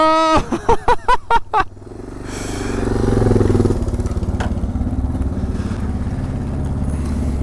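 Suzuki DR-Z4S motorcycle engine revs in a few quick blips, then pulls away and rises into a steady loud drone as the bike accelerates and cruises, with a rough mid-pitched exhaust note close by.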